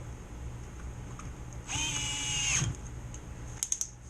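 A slow cordless drill driving a screw on a coil relocator kit whirs for about a second over a low background hum, then a few sharp ratcheting clutch clicks follow.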